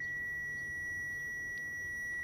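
A multimeter's continuity test gives a single continuous high-pitched electronic beep that holds steady throughout, clear and close, over a faint low hum.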